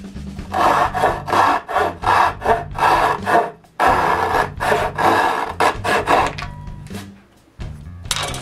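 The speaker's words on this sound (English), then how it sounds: "I cut each end with a handsaw" A handsaw cuts the ends of wooden drawer parts in loud, close, rhythmic back-and-forth strokes of rasping wood. A brief pause comes midway before the sawing resumes.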